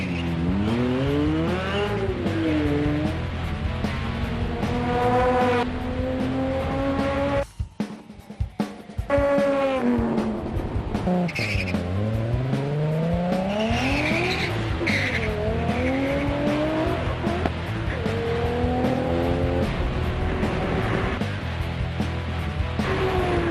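A street race car in a 2002 street car challenge accelerates hard, engine notes climbing steeply through the gears with a brief drop at the shift, then rising again loud and close, with tire squeal.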